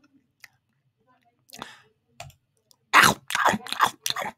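A voice imitates eating crisps with a quick run of close, crackly mouth clicks and crunchy sounds, preceded by a few faint clicks and a short exclamation.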